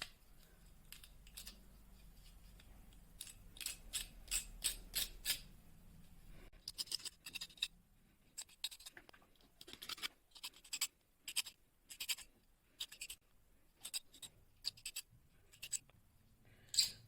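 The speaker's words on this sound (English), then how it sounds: "we will take the help of cutter and you will remove the insulation like this." A cutter blade scraping enamel insulation off copper coil wire for a small homemade motor, heard as quiet, close, short scratchy strokes in irregular bursts.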